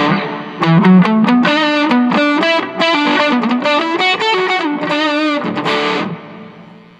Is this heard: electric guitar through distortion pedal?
yes